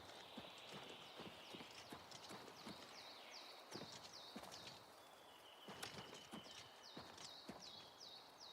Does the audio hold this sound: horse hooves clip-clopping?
yes